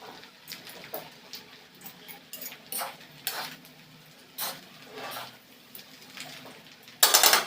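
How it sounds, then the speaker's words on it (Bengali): Pasta is stirred in a pan with two forks, giving close, scattered scrapes and metallic clicks in an uneven rhythm, with a louder clatter at the end and no talking. "আমি তো 2টা কাঁটা চামচ নিয়ে ভালো করে নাড়ছি।"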